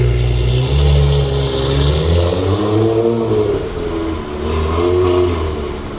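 A Porsche engine at a Porsche night at the Ace Cafe revs loudly and close, a deep throaty rumble rising and falling in several surges with no talk over it.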